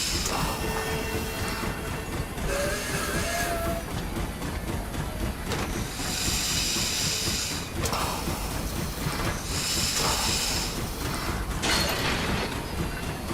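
A train ride in The Long Dark rumbles and clatters continuously, with rhythmic mechanical rattling of the railcars and periodic hissing bursts, steady and fairly loud throughout.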